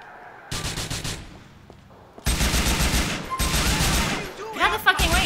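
Gunfire in Grand Theft Auto 4: loud bursts of rapid automatic shots come in several volleys with short gaps, close and dense, with brief game voices between them.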